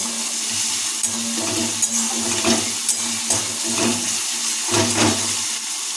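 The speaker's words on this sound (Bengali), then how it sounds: "আমরা আদা বাটা পেঁয়াজের মধ্যে যোগ করেছি তাহলে কিন্তু ভালোভাবে নেড়ে নেব" Ginger paste and onions stirred and sizzling in a pan, a steady frying hiss with intermittent scraping strokes of the spoon, close and continuous.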